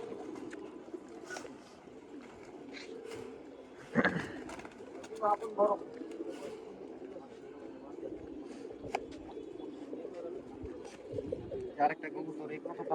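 Pigeons coo steadily in soft, low, rolling calls, with a few sharper bird notes and voices talking nearby throughout.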